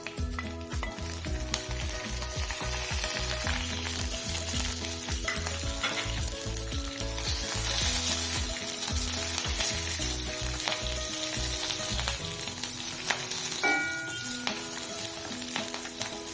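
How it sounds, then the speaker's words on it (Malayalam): Fenugreek seeds, green chillies and curry leaves sizzle loudly in hot oil for a mango pulissery tempering, a dense continuous crackle with stirring throughout and a brief quieter stretch near the end. "നമുക്ക് ഉലുവ ചേർക്കാം ശേഷം പച്ചമുളക് കറിവേപ്പിലയും ചേർത്ത് കൊടുക്കാം"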